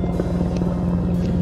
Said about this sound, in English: that's a big old helicopter